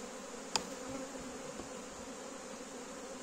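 Dense, steady buzzing of many honeybees close by at an open hive, a continuous drone with a brief sharp tick near the start.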